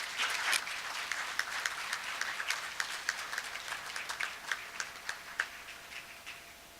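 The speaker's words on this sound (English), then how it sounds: "Give them another round of applause, please." Audience applause at a school board meeting, a steady wash of many hands clapping with distinct sharp claps standing out throughout, fairly distant and continuous with no talking.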